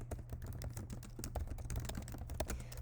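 Quick, irregular clicks of a computer keyboard as instructions are typed, close and crisp over a low steady hum, with no talk.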